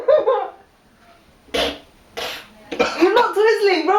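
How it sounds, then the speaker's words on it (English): Coughing from someone reacting to sniffed irritants during a sneezing challenge, with a few sharp bursts near and loud in the middle, separated by pauses, and talking at the start and end. "It just makes me cough."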